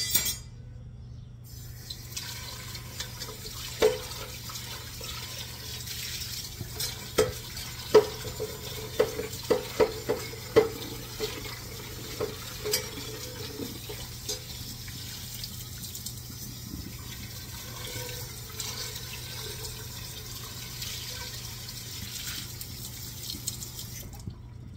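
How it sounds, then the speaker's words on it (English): A pot being washed and rinsed under a running kitchen tap, steady water flow with scattered clinks and scrapes of metal against the sink, close and moderately loud throughout. "I need to wash this pot out and I'll rinse it out"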